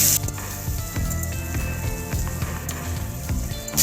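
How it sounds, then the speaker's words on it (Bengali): Potatoes frying in oil with turmeric and salt, a steady, close crackling sizzle that runs the whole time with scattered sharper pops and spatters, no voices. "এবার নুন হলুদটা দিয়ে ভালো করে আলুটাকে একটু ভেজে নেব।"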